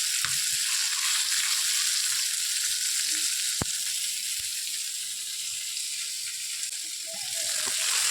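Fish frying in hot oil, a steady bright sizzle running through the whole stretch with a few faint clinks of stirring and occasional small pops.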